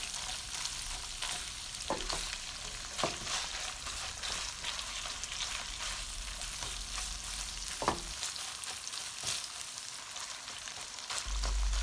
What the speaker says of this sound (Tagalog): i-stir fry ang ating sliced beef. So, lagyan na po natin ang ating onion.